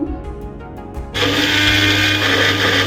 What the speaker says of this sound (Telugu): ఒక ఇరవై వెల్లుల్లిపాయలు వేసేసుకొని మళ్ళీ మిక్సీ పట్టుకుంటున్నాను